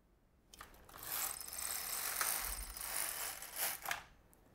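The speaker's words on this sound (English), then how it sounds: "And then we knit one row" An LK-150 knitting machine carriage is pushed across the needle bed for one row, a close mechanical ratcheting whir that starts abruptly, runs about three seconds with small clicks, then stops.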